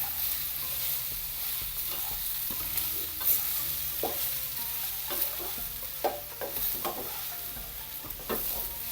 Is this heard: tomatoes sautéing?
yes